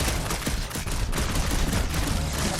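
Rapid, dense bursts of gunfire fill the moment in a battle against a dragon in Marvel's Guardians of the Galaxy, a loud continuous fusillade with no voices.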